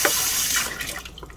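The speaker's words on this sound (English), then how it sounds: "And we're just gonna rinse out that piece." Tap water runs into a sink as a small implement is rinsed in a nail studio, a close, steady splashing rush that tapers slightly toward the end.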